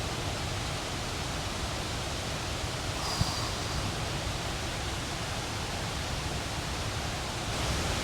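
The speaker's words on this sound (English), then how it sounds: "So there is a waterfall behind, so I'm sorry for the background noise" A jungle waterfall rushes behind a rock face, a dense, constant roar of falling water filling the background without pause, no speech.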